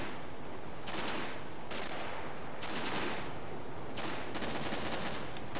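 A squad opens fire in the Darkest Hour video game: repeated loud gunshot volleys roughly every second, each a sharp crack trailing into an echoing tail, close and dense.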